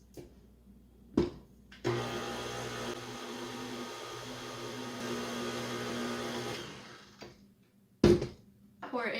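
An electric mixer whirs steadily for about six seconds, beating cake-pop batter after a batch of flour is added, framed by short clunks and handling knocks before and after.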